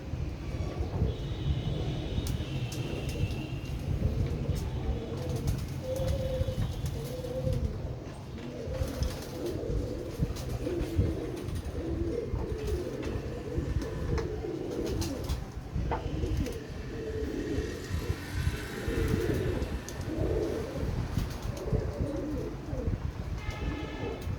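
Pigeons coo repeatedly in soft, rounded phrases close by, layered over a rumbling background with occasional clatter and faint higher calls, without speech.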